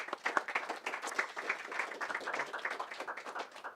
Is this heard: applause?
yes